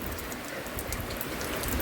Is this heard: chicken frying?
no